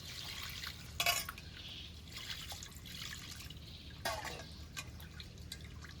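Cut pieces of hilsa fish get rinsed with water, quiet splashes and drips with two brief sharper sloshes standing out over a low steady background, no voices.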